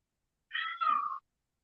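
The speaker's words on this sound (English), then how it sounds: "They make such a strange meow." A Bengal cat gives a single drawn-out, two-part meow, clear and close against silence, with an odd bending pitch.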